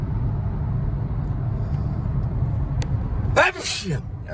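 Steady low rumble of background noise, then a sudden sharp sneeze bursts out near the end, close and loud.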